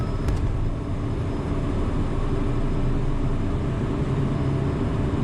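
Citation M2 business jet engines spooled up to takeoff power, a steady, loud broadband roar with deep rumble that holds constant throughout, heard from inside the cockpit without talk.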